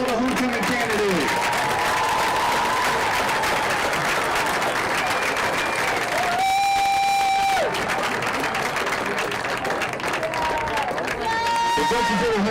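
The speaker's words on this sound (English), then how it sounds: "Let's give a round of applause to all the homecoming candidates." Crowd at a Junction City High School homecoming game cheering and clapping for the homecoming candidates, a dense, loud wash of applause that runs throughout with a few tonal whistles or horns rising above it.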